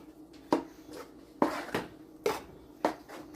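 A spoon clacks against a bowl while Nigerian moi moi batter is mixed with seasoning, salt and chili sauce, giving five or six sharp, irregular clinks close up over a quiet background.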